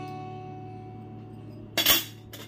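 Small brass spoons, part of a new brass utensil set, clink together in a brief bright metallic chime burst near the end, following a quiet hum.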